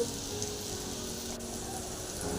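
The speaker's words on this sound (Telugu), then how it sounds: "కొంచెం నూనెతో ఫ్రై అవుతుంది కదా" Bitter gourd fries in a small amount of oil, giving a steady, even sizzle with a faint crackle that continues alone without a break.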